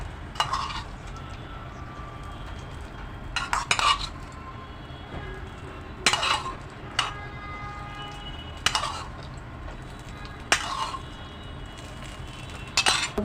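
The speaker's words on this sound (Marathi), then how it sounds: "चांगलं ढवळून घेत आहे" A metal spoon stirs a tempering of dried red chillies in a pan for coconut chutney, scraping and clinking against the pan in bursts every couple of seconds over a low background hum.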